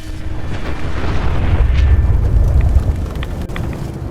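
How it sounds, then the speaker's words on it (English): A hatch explodes in Fallout 4 with a single deep, rumbling boom that swells and then slowly fades, loud and close with no talking. "If you try to open it, the hatch will explode and disappear."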